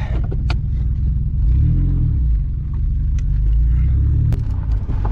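A Mazda MX3 on its final drive before being scrapped, its engine a loud, close, steady low rumble that swells with revving throughout.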